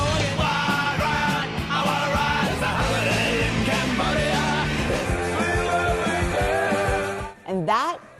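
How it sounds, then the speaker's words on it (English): Loud, dense punk rock blares with driving band instruments and shouted, yelling vocals, ending in a short burst of noisier sound. "And that is the sound of punk."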